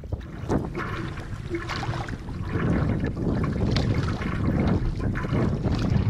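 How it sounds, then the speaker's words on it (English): Strong, steady wind howling across a lake in the Boundary Waters, with gusting noise buffeting the microphone and water sloshing near a boat, growing louder toward the end. "The wind is like howling."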